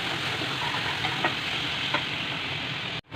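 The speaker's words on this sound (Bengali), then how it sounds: "দিয়ে ভালো করে কষাতে হবে যতক্ষণ পর্যন্ত তেল না ছাড়ে" A spice paste fries in oil in a pan, giving a steady close sizzle with a few stirring scrapes before it abruptly drops to near silence and then resumes.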